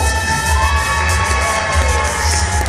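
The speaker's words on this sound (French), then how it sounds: "On l'applaudit très fort" Audience cheering and applauding a model on the runway at a Sweet Lolita and gothic fashion show during the Japan Addict convention, a steady, loud crowd roar with shouts and whoops throughout.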